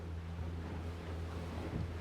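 A fishing boat motoring out to deep water off Northern California, its engine a steady low hum beneath wind and water wash, continuous and moderately faint.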